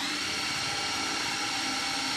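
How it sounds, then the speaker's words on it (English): A drill fitted with an auger bit bores into a board, giving a continuous, loud, high-pitched whine that holds steady without pause throughout. "I'll just use the auger bit because I don't want to drill too big of holes and weaken the board"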